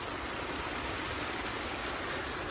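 A garden pond waterfall trickles and splashes in a constant, even wash of water, close and steady with no other sounds.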